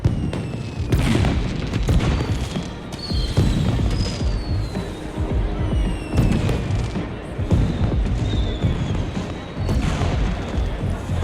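Fireworks in the video game Beyond a Steel Sky go off as a dense, continuous barrage of booms and crackling bursts, with whistling rising streaks above, loud and sustained throughout.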